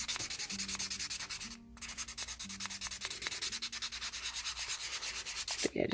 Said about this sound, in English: kind of sanding and doing this